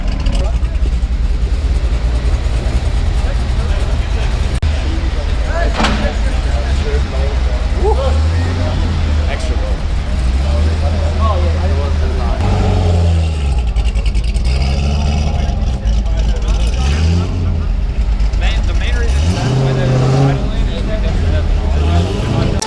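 A Corvette C5 Z06 engine running on a dyno, a loud continuous rumble with rising and falling revs close by, with people talking over it.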